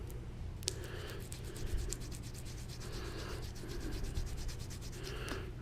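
Leather conditioner is rubbed and burnished into Whites leather boots with quick, close back-and-forth scrubbing strokes, a steady rhythmic brushing rasp that continues throughout without talking.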